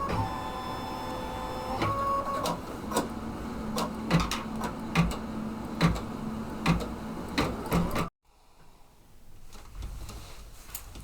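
An embroidery sewing machine stitches out a design in a rapid, steady, mechanical ticking rhythm with a low motor hum. It runs close and fairly loud for about eight seconds, then stops abruptly, leaving quiet room noise.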